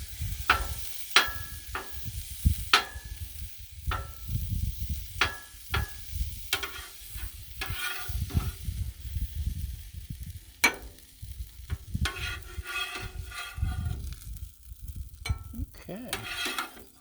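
Pork loin pieces sizzle steadily on a griddle, a close, continuous fry broken by frequent sharp clicks and scrapes of a utensil against the metal surface, with no talking.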